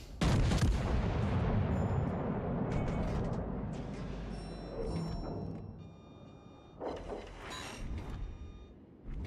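Heavy ship guns fire in a naval battle video game, opening with a loud booming salvo that rolls into a long fading rumble, followed by softer distant shots and mechanical clanks.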